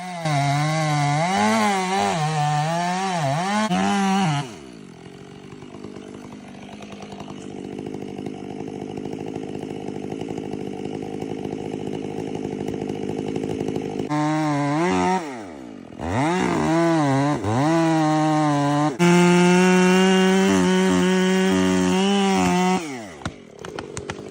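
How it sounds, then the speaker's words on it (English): A long-bar chainsaw trims large tree branches and then cuts straight into the trunk. The engine snarls loud and close, rising and falling in pitch with each cut, with a brief idle stretch in the middle before full revs return. "workers use a chainsaw with a long bar to trim large branches, then switch to cutting straight into the tree trunk"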